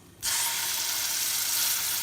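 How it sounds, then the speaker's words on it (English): A pork chop hits a hot pan with a sudden loud sizzle that settles into a steady, bright hiss. "So we hear that nice little sizzle."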